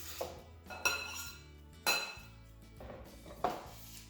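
Cut jalapeno is placed into a bowl with several sharp clinks and knocks of utensil against dish, spaced irregularly over a quiet kitchen background.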